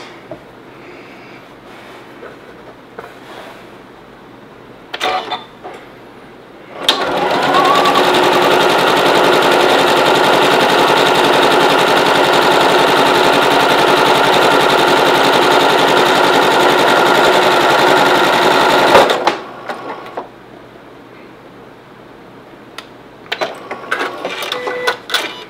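A sewing machine stitches pieces of a June Tailor project bag, running in one loud, steady burst of about twelve seconds between quiet stretches with faint handling noises before and after.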